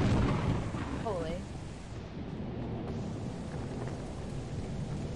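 In a video game, Lethal Company, a deep lightning-strike thunder rumble booms loudly at the start and rolls away into a steady hiss of falling rain.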